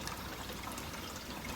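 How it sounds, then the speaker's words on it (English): Cold tap water pours steadily over tri-color pasta in a colander, a constant soft splashing hiss with no talking. "I'm going to rinse it with cold water."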